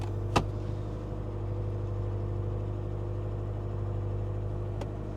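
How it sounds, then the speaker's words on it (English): A BMW X6 engine idles slightly high with a steady low hum that drones without pause, with a sharp click near the start and another near the end. "Engine sounds good. Idling"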